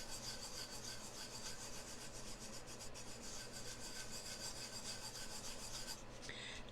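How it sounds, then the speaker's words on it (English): Fingers rub steadily over tooled leather with light pressure, making a continuous soft, close scratchy rasp with no pauses. "we're just going to start rubbing it"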